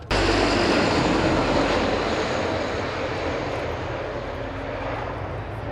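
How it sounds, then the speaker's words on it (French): Loud, steady drone of engines from a French Navy flottille 21 aircraft at an air show, a broad roar that starts abruptly and holds continuous and near, easing slightly toward the end. "pour vous permettre d'enregistrer à la vidéo le bruit des moteurs"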